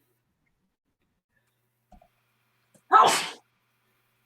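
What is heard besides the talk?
sneeze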